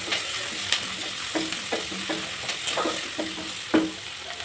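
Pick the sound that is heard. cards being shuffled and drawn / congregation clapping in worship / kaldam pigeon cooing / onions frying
onions frying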